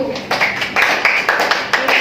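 Students in a classroom clap for a group after its presentation, a quick run of rhythmic hand claps in regular bursts, close and fairly loud, with voices underneath.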